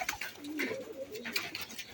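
Pigeons coo in soft, repeated low throaty calls, close by, with a few brief higher chirps scattered over the two seconds and no talking.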